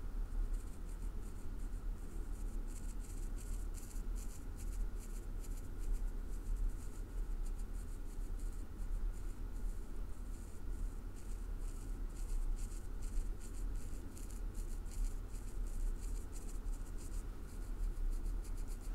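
A black fine tip dry erase marker scratches steadily across a surface in continuous, close strokes, a soft dry scraping that runs unbroken for the whole stretch with no voices.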